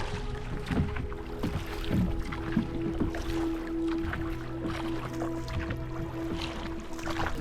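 Boat rowed across a reservoir deep in Parambikkulam forest, with a steady wash of water and soft paddle splashes, faint knocks and a low hum running throughout, no talking.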